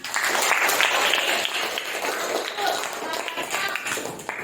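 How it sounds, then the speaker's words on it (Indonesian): An audience claps together in a classroom or school coaching session, a dense, steady patter of many hands held at an even level for several seconds, with a voice speaking briefly over it. "Tepuk tangan untuk semuanya"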